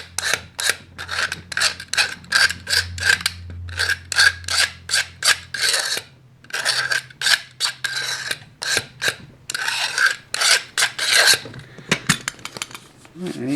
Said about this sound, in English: You take the blade, just rub it up and down, like so. Bit of a burr edge on there.